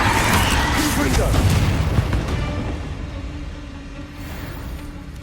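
Explosive Confringo spell in Hogwarts Legacy, a loud booming blast followed by a rumble that fades over several seconds, with game effects and voices underneath.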